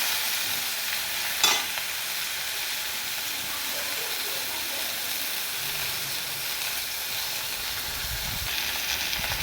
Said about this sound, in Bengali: পটল আলু আমার ভাজা ভাজা হয়ে গেছে,